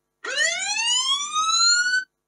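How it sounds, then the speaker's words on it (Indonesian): A synthetic police siren alarm tone from a find-my-phone app, one rising wail that climbs steadily and stops abruptly, loud and clear with no other sounds. "kemudian suara polisi"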